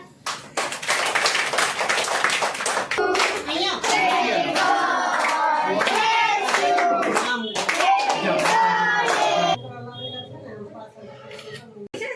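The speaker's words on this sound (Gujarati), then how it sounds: "તાળી પાડો બધા" Children and adults at a birthday party clap in a dense, loud burst of many hands, with voices chattering over it; the applause stops abruptly near the end, leaving quieter room chatter.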